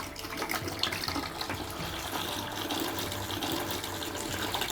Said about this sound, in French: il y a de l'eau plus de l'air qui sort